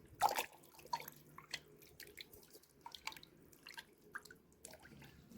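Liquid from harvested dragon fruit drips and trickles in a few close, soft wet splashes and drips, with no one talking.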